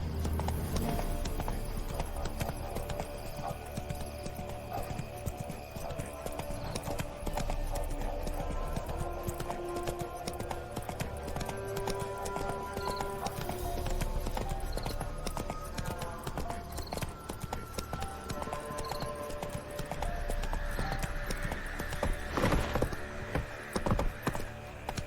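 In The Witcher 3, a horse gallops in a fast, continuous drumming of hooves that holds steady throughout, set against game music and ambience.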